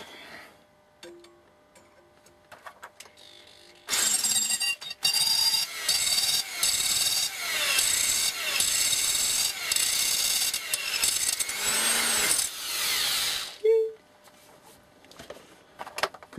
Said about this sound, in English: We need a pillar drill.